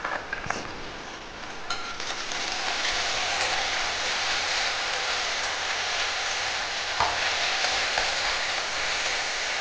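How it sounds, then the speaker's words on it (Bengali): Garlic and ginger paste frying with onion in oil, a dense, even sizzle like steady rain, close and constant with a few brief clicks, no talking. "আর 1 চামচ আদা বাটা। এটাও পেঁয়াজের সঙ্গে ভালো করে ভেজে নেব।"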